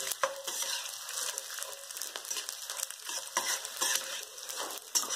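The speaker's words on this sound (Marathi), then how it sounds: "डिंक छान तळून घ्या." Edible gum (dink) frying in ghee: a steady, dense sizzle with crackling and bubbling that runs continuously at close range, with no voices over it.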